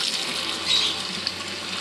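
Tap water runs steadily over bird seeds being washed for sprouting, a close, continuous splashing stream with a small clink partway through and no talking.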